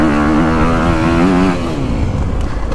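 A 2022 Honda CRF250R dirt bike engine revs on a woods loop, rising in a crisp, loud whine and then dropping off over about three seconds.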